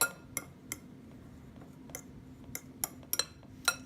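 A fork scraping and clinking against a bowl while mixing keto cheddar biscuit batter, a series of sharp metallic ticks at irregular intervals over a low steady hum, close and fairly quiet.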